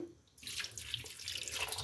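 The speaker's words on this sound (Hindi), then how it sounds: "इसमें थोड़ा सा पानी डाल दें" Water is poured into a pot of chicken and turnip curry, running steadily in a continuous splashing stream after a brief quiet start, close by and fairly loud, with no voices.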